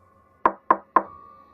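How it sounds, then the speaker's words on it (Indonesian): Three slow, evenly spaced knocks sound from inside a storeroom, each a sharp, close, hollow rap that fades quickly, over a faint steady hum in an otherwise quiet room. "terdengar ketukan dari arah gudang. Bukan dari pintu, tapi dari dalam. 3 kali."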